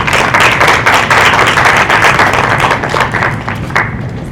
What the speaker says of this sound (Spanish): a quien también lo recibimos con fuerte voto de aplausos